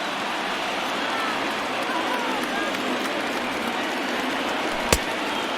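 A baseball stadium crowd in MLB The Show 20, over 39,000 fans on their feet for a ninth-inning out, giving a steady, wide roar of cheering that holds level throughout, with one sharp clap-like hit near the end.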